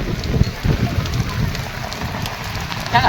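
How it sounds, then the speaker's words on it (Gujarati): Heavy rain pours down on a spinach field in a loud, dense, unbroken patter close by. "અહીંયા કેવો વરસાદ પડી ગયો છે"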